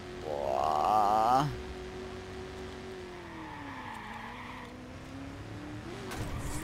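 Car at top speed in the video game Watch Dogs, a high engine whine and revving that drops back to a steady moderate drone, with a brief tire-skid screech at the start.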